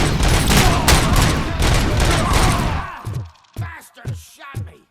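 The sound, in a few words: gunshots in RoboCop: Rogue City video game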